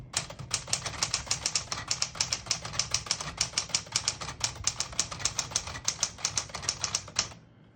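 Rapid, even keystrokes clack on a 1961-63 Tower Citation 88 portable typewriter, a close, crisp run of about thirty strikes at steady pace that stops abruptly near the end.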